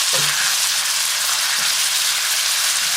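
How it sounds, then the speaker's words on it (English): Ground beef browns in a skillet with avocado oil, giving a steady, loud sizzle and fry crackle that fills the whole stretch without pause. "I'm going to add in my pound of ground beef and I'm going to brown the meat"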